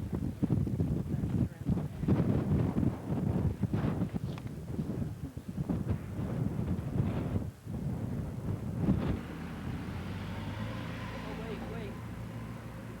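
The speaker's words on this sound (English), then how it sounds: "The wind's probably gusting to 40 miles an hour or more" Strong wind gusting to about 40 miles an hour buffets the microphone in rough, rumbling gusts, with a voice speaking faintly underneath before the gusts ease into a lighter roar.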